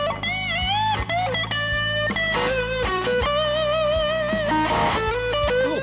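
An electric guitar plays a melodic line with a chorus effect, its notes slightly wavering and shimmering as they sustain, in a recreation of a classic blues tone.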